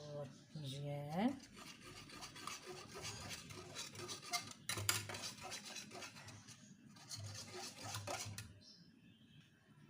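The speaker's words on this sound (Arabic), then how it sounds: "نزيدو واحد مغرفه ديال الشوكولاته بالدهن، نزيدها وغادي نخلط مزيان" Chocolate spread with fat being stirred into a cooked dessert mixture, a soft scraping and clinking of a spoon against the pot that repeats unevenly and sits close by, with a few brief sharper knocks.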